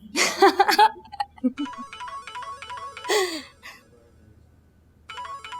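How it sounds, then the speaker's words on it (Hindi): A repeating electronic phone ringtone melody plays in bursts, broken up by a woman's short gasps and sighs, then starts again after a brief pause, in a TV drama. "ये किसका फोन आ रहा है?"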